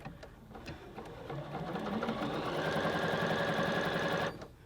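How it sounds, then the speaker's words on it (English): A Bernina 790 Pro sewing machine runs at speed with a smooth, fast, even mechanical whir that rises briefly at the start, holds steady for several seconds, then stops abruptly. "when you hear this thing sew"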